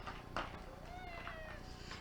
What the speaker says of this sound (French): Bébé chat.